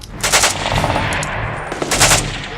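Bursts of rapid automatic machine-gun fire in a compound, two loud volleys separated by a short pause, with reverberating noise in between.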